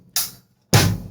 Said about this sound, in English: So this is basically just a 4 on the floor groove.